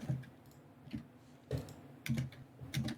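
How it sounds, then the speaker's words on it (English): Someone types on a computer keyboard nearby, producing short clusters of clicking keystrokes in an irregular rhythm with brief pauses between bursts. "We can hear you typing"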